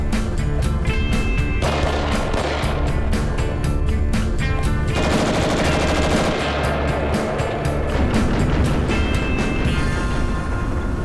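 Automatic gunfire at an outdoor shooting range: loud, rapid bursts of shots crack continuously over a dense, booming background, with no pauses between volleys.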